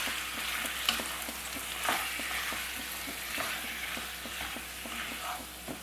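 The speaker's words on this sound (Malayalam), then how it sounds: "ചിക്കൻ ചേർത്തതിന് ശേഷം നമുക്ക് നന്നായിട്ടൊന്ന് ഇതുപോലെ ഒന്ന് മിക്സ് ചെയ്ത് കൊടുക്കാം." Chicken and Chinese potatoes are stirred in a hot pan over high flame, a constant sizzle overlaid by regular, rhythmic scraping strokes of a spatula, with no speech.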